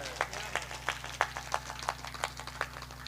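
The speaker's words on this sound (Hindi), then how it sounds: "तालियां से स्वागत करिए।" Sparse handclaps from a crowd of devotees at a Devi Bhagwat Katha religious discourse, a few sharp claps spaced roughly every third of a second over a steady low hum.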